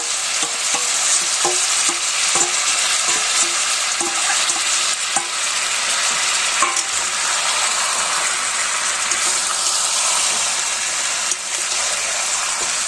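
Tomato puree stirred into ginger and garlic frying in a pan, giving a loud, steady sizzle with scraping stir strokes throughout.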